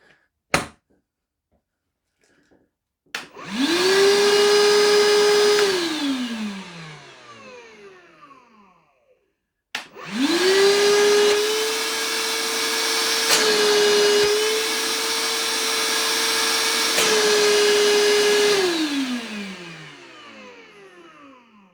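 Evolution R11VAC 18V cordless wet and dry vacuum switched on twice, each time spinning up to a loud steady motor whine with a strong tone, running several seconds and winding down, alone with no talk.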